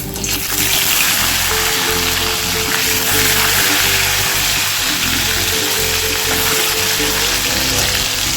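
Two rohu fish fry in hot oil, a loud, dense, steady sizzle and crackle that stays unbroken throughout with no talking.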